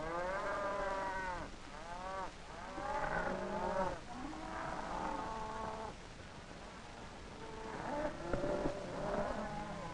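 Cattle herds belonging to Fulani nomads in Nigeria low repeatedly, with several overlapping moos rising and falling at a moderate distance and short pauses between calls.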